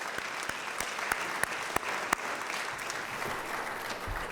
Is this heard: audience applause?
yes